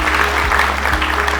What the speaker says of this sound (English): this group and this group should look to the audience and clap for your family and friends in the audience